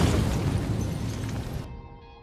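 A car explosion's loud roaring rumble fills the air and then fades, its crackling tail dying away into a quiet ring.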